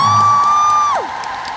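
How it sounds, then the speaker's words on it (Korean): Concert audience at a year-end fan show cheering loudly with high whoops and shouts over a steady tone, applause mixed into the roar, lasting briefly and then dropping slightly in level. "큰 박수 다시 한 번 쳐주시면 감사하겠습니다."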